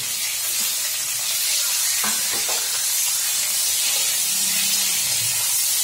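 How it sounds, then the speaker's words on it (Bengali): Hard vegetables frying together in a pan for a spinach rice meal, a steady loud hiss and sizzle with a few brief clinks of stirring. "এগুলো একটু শক্ত, এগুলো একসাথে ভেজে নেব।"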